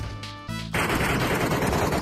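Rapid gunfire bursts in a shooter video game, loud and close, dense and continuous after a brief quieter lead-in.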